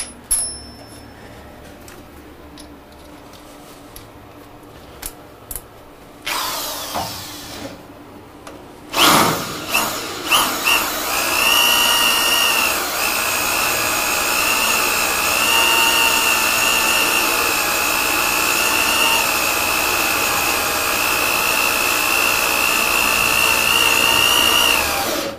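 Power drill boring through material for boat forks, starting with a few short bursts and knocks, then a sustained loud whining, grinding run that continues steadily for over fifteen seconds at close range.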